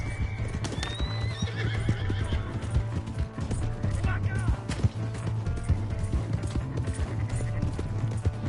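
Horse hooves clip-clop rapidly in a PS4 video game, joined by a whinny and neighing, with rhythmic galloping beats under overlapping shouted game dialogue and background clatter.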